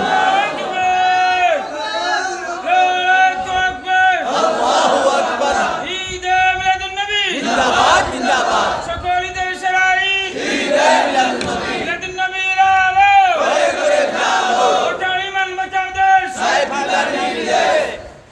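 A crowd at a Sylheti Bangla Islamic waz sermon chants takbir together, loud collective shouts rising in repeated rhythmic bursts, each call followed by a brief dip, with no single voice standing out.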